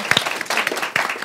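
An audience at a student challenge event breaks into applause, a short, close burst of scattered hand claps lasting only about a second.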